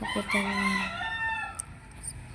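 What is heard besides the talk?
chicken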